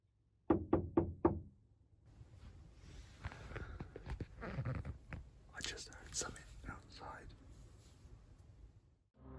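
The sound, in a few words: someone knocking on a car window at night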